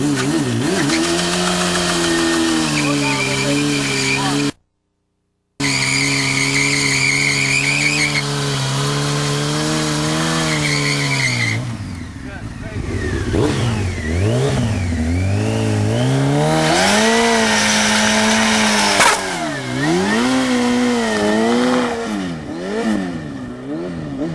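A motorcycle burnout with the rear tire spinning: a loud engine holds high revs, rises and falls, and drops away briefly, while a harsh tire squeal builds and wavers on top, close and continuous.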